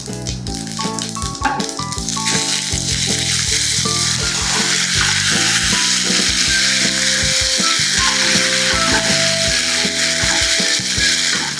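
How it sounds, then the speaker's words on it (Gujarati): Mustard seeds, cumin and sesame seeds crackling in hot oil in a pan for tempering, a dense rapid popping and spattering over a continuous sizzle, loud and close, running steadily throughout. "વઘાર માટે પેનમાં તેલ લઈશું રાઈ અને જીરુંનો વઘાર કરીએ રાઈ જીરું તલ મૂકીશું"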